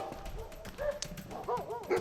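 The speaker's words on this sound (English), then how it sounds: "Without noticing, the road behind me started to be blocked off by dogs." Several dogs on a mountain road make short yips and rising whining cries, scattered over faint outdoor background noise.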